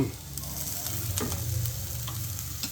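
Cooked beans sizzling and being stirred in hot oil in a pan for Tamil-style beans paruppu usili, a steady close frying hiss with a few scraping stir strokes, no talk.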